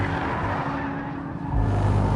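A 2013 Nissan GT-R Black Edition with 550 horsepower and all-wheel drive lapping a race track: a steady, close engine drone that swells louder in the last half-second.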